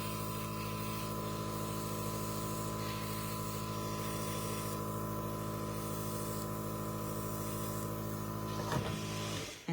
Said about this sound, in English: And I'm spraying this before I remove the stencil, so it'll only go on to where the diamonds are.